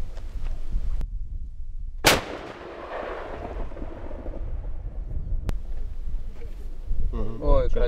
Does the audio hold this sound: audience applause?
no